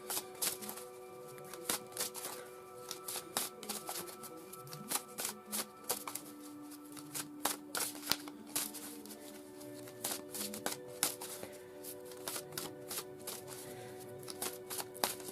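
Oracle cards are shuffled steadily by hand at close range: soft, quick riffling flicks in irregular clusters, quiet and continuous, with no talking.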